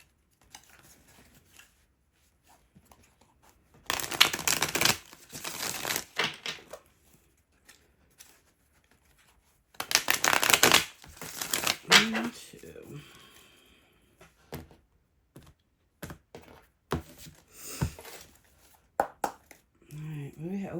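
Two bursts of riffling, flapping tarot card shuffles, each lasting about a second, with softer handling noises and a quiet voice in between.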